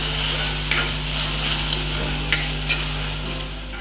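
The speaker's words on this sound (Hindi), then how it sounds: "अब हम इसमें लंबाई में कटी हुई हरी मिर्च डाल देते हैं और टमाटर डाल देते हैं। टमाटर को हम सॉफ्ट होने तक पका लेंगे।" Green chillies and tomatoes sizzle steadily in a hot pan for dal khichdi, a continuous close frying hiss with a few soft clicks of a spoon stirring.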